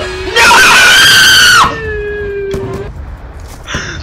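A person lets out a loud, high-pitched scream while playing Black Ops 2, holding it for over a second, then a sustained squeal trails off and a few short sharp noises follow.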